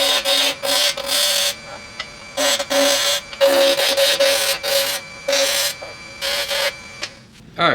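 A wooden stairway spindle spins on a lathe while a tool rounds its center section, giving harsh scraping bursts of cutting that start and stop repeatedly over a steady machine hum, loud and close.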